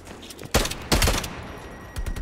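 Gunfire from a Tec-9 SMG in the video game Call of Duty Cold War: loud bursts of rapid shots, one at about half a second and another near one second, then a shorter, quieter burst toward the end.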